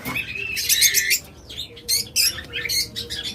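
Pet birds such as lovebirds, budgerigars and finches chirp in a busy cluster of bright, rapid tweets in close, irregular bursts, with no talking.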